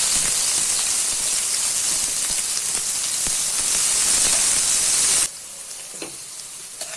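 Mustard seeds sizzling in hot oil during tempering, a dense, bright crackling hiss with tiny pops that holds steady and loud, then drops abruptly to a quieter sizzle near the end.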